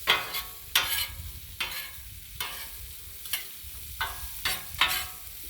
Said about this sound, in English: right now, I'm going to show you how to saute.